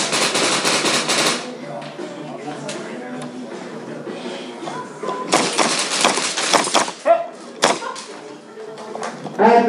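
Gunfire from a shooter video game comes in rapid automatic bursts and single cracks, busiest at the start and again in the second half, with quieter stretches between.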